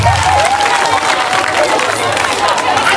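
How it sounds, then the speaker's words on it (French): A live audience applauds a comedian at a stand-up show, a dense continuous wash of clapping with crowd noise and some voices mixed in, loud and close throughout. "applaudissez pour vous et applaudissez pour moi-même"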